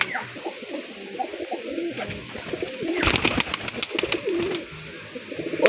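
Gola chap pigeons keep up a steady murmur of low coos at close range, broken midway by a cluster of sharp clicking and fluttering knocks.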